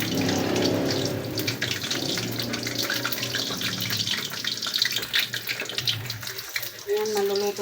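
Water runs steadily from a tap during laundry washing at home, a continuous close splashing rush with faint voices now and then beneath it.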